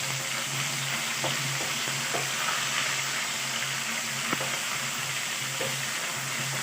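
Ginger garlic paste frying in a pan, a steady soft sizzle with a few faint clicks and stirring taps, close and even throughout, no voices.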